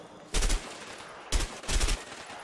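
Gunfire in the video game A Way Out: two loud bursts of rapid shots, the second split into two quick volleys, booming and close over a quiet background.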